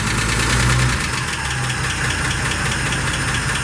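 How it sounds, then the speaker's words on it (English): Cold 1948 Pontiac Torpedo engine idling just after a cold start, a steady low rumble with an irregular ticking knock running throughout, close and fairly loud with no talk. "Cold motor."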